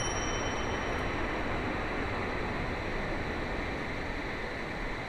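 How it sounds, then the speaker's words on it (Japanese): A Shinkansen bullet train rushes past as a steady, loud broadband roar that holds for about five seconds without letting up. "新幹線かな、"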